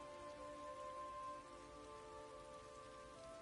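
Rain falling in the Elder Scrolls Online game world, a faint, steady patter on surfaces under soft sustained ambient tones, continuous with no voices.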